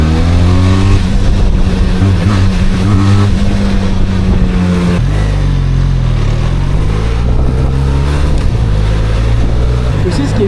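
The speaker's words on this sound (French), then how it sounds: "Regardez, je vais accélérer pour monter à 50." Twin-cylinder trail motorcycle accelerating up to 50, engine note rising steadily and loud throughout, with a shift partway through and a voice speaking over it.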